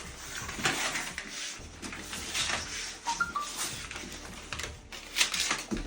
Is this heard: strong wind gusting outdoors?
no